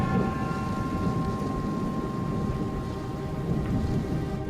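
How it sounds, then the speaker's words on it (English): Rain falls steadily at night around an airport as thunder rumbles low and continuous under it, a dense broadband wash with no voices. "thunder begins to reverberate around the airport"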